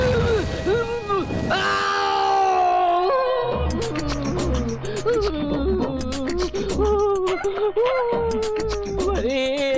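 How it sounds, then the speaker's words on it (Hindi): A man screaming and groaning in pain in a hospital, in a Hindi-dubbed South Indian action film, with loud drawn-out anguished cries and wails over continuous background music. "ये क्या हॉस्पिटल में ऐसे चिल्ला रहे हो?"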